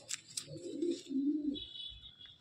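A Madrasi pigeon with yellow eyes coos once, a low, rounded, fairly close call lasting about a second, with a few faint chirps and a thin whistle around it.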